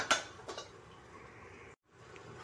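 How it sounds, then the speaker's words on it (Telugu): A lid is lifted off a pan of ponganalu, a traditional Andhra snack, and the pieces are moved to another plate, heard as a few close metallic clinks and scrapes over quiet kitchen background. "ఇప్పుడు మనం మూత ఓపెన్ చేసి చూసుకున్నాం. ఇప్పుడు వేరే ప్లేట్లోకి తీసుకున్నాము."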